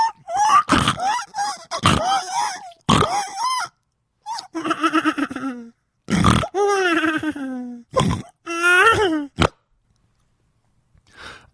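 A voice imitates a baby snoring with a string of loud, close, squeaky grunting bursts, some pitched and crowing-like, separated by short gaps before trailing into near silence.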